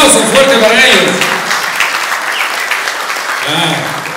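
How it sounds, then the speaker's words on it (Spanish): Loud applause from a crowd at a company Christmas awards ceremony, a dense burst of clapping while a voice speaks over it at the start and again near the end. "Aplausos fuertes para ellos."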